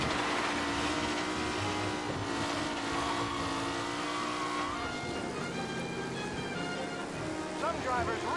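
Race cars roar around a track in Mafia, a steady blended drone of engines rising and falling in pitch, held under continuous background noise at moderate volume.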